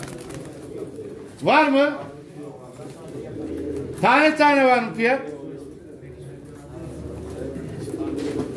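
Pigeons coo in two short bursts, close and clear, at a pigeon auction while someone talks over a murmur of background chatter.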